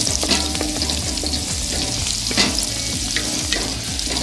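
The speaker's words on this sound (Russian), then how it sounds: "И обжариваем все вместе." Chopped onion and diced carrot frying together in about 50 g of vegetable oil in a pan for a ratatouille-style dish, a steady close sizzle with the scrape and clatter of stirring throughout.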